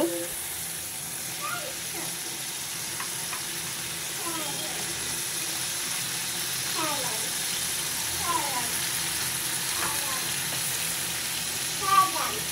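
Fish frying in a thick spice paste in a home kitchen, a steady close sizzle with scraping stir strokes at irregular intervals, while someone speaks over it and a voice chimes in near the end.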